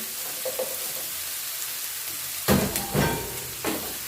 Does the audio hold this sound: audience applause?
no